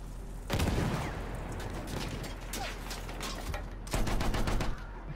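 Bursts of rapid gunfire from Battlefield 1, a dense rattling stream of shots that stays steady and loud throughout, with a sharper volley near the end.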